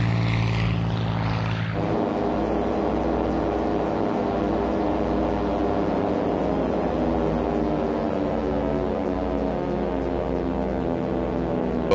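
A P-51 Mustang fighter with an Allison engine flying, its propeller drone steady and loud throughout, opening with a brief rush of passing air before settling into a continuous, even engine hum.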